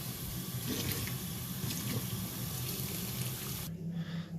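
Steady rushing of water from a tap, continuous and close, with the flow changing character near the end as the tap is switched to hot water from a gas boiler.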